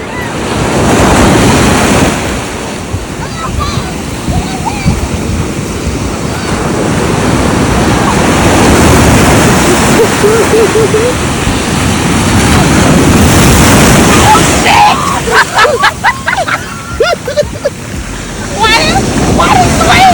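Ocean waves roll and crash at Myrtle Beach, a loud, continuous surf wash with wind buffeting the microphone, and near the end a few choppy bursts of splashing break up the steady roar.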